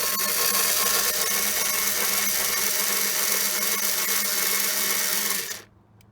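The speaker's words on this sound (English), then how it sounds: "all you literally do is unscrew that bolt again" A power tool driving out the mounting bolt of a Piaggio Vespa GTS top case, a steady close whirring buzz running about five and a half seconds before cutting off abruptly.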